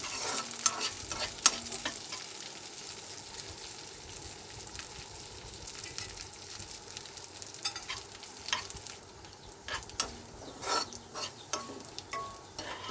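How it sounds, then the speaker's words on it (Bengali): Dry fruits fry in ghee with cardamom in a pan, a soft steady sizzle broken by stirring scrapes and clicks of a spoon, close and fairly quiet, with no talk. "ঘিয়েতে আমি ভালো করে ড্রাই ফ্রুটগুলো ভেজে তুলে নেব।"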